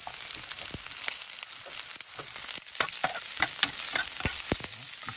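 Ginger, onion and garlic sautéing in a pan, a bright continuous sizzle broken by frequent sharp stirring scrapes and clicks, close up with no speech.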